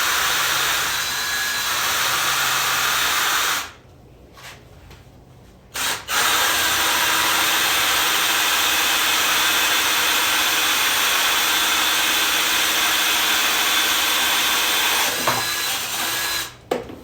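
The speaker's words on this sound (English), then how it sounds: "Now the pilot hole I drilled is smaller than this drill bit. So I want to drill this" A power drill bores a larger bit through a smaller pilot hole while building a garage fishing rod rack, giving a steady, loud whirring whine that stops for about two seconds, then runs slowly and evenly again.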